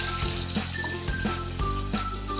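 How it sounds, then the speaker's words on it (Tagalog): Onions sautéing in a pan of oil for fish escabeche, giving a steady close sizzle with a few soft knocks and stirring clinks over about two seconds. "So magigisa na tayo."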